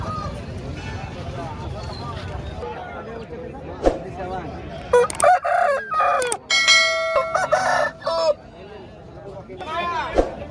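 Several fighting roosters crow loudly at a rooster market in Gokavaram, East Godavari, their long calls rising over constant crowd chatter and clucking.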